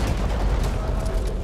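Gunfire in the video game Back 4 Blood, a dense, loud, continuous burst of shots and booms with no pauses.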